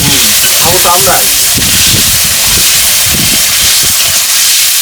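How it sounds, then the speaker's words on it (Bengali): Sliced potatoes frying in oil for a Bengali village fish dish, a loud, continuous sizzling hiss with a voice and other low voices talking underneath. "মাছের আলুগুলো ভেজে নেবো এখন"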